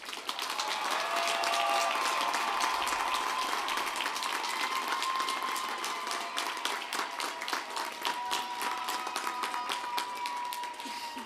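Sustained applause from a seated crowd for graduates at a university commencement ceremony, dense clapping that swells early and holds steady for about ten seconds in a large hall.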